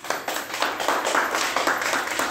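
Small children at an anganwadi play a follow-the-instructions game, clapping hands together in a quick, loose, uneven rhythm of many overlapping claps, fairly close and steady for a couple of seconds.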